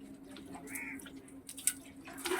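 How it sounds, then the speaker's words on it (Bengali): Water is poured onto freshly laid masonry, giving soft splashes and scattered drips at close range over a faint background hum. "আরে জল দিচ্ছি, মিস্ত্রিরা কাজ করে গেছে না, তাই জল না দিলে শুকিয়ে যায় না"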